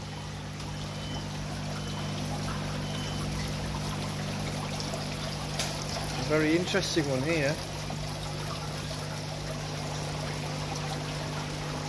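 Water streams down strings on a garden centre wall waterfall, a steady wash of trickling and pouring close by that runs unbroken under a brief spoken remark.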